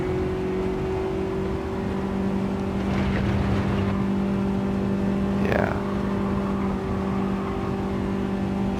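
Small kei car engine droning at steady revs through a lap in Gran Turismo 7, a constant buzzing hum with a brief rise and whoosh partway through.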